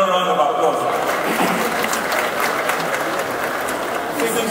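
Large crowd applauding at a Nigerian Independence Day anniversary gathering in Onikan Stadium, Lagos, a loud continuous wash of clapping and cheering with voices mixed in.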